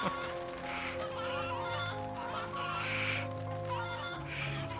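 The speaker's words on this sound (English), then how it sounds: "you will get very used to dealing with these chickens" Chickens cluck and squawk repeatedly in the MediEvil (2019) video game, a busy overlapping flock of fowl calls over a droning musical background.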